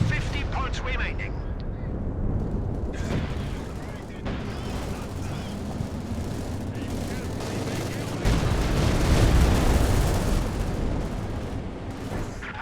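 Panzerwerfer rocket artillery strike in Company of Heroes 2, dense rumbling barrages of blasts and explosions rolling continuously through a busy battle, with a voice talking over it.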